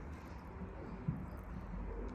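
A mated pair of caged pet birds coo softly. The faint, low calls sit close but quiet under a hushed room background, with one slightly louder coo near the middle.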